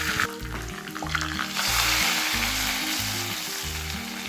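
Loud, steady sizzling and crackling as hot oil tempering with dried red chillies and curry leaves hits Malabar-style sambar, hissing continuously close up for a few seconds.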